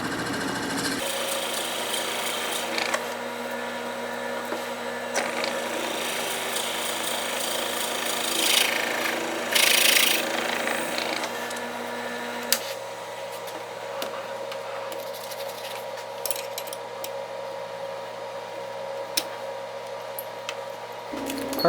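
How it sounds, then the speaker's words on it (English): Steady mechanical hum of a lathe with a rasping, grinding bite as a drill bores into a segmented wood blank, intensifying midway then settling, occasional clicks, no talking. "That is what I like drilling on the lathe."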